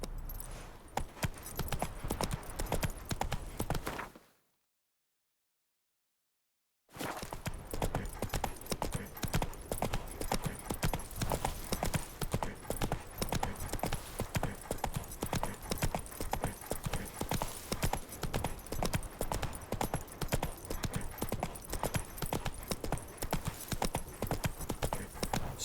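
A horse's hooves clip-clop steadily in The Witcher 3 next-generation update, a continuous rhythmic trot that is moderately loud and close, broken by a few seconds of silence before resuming.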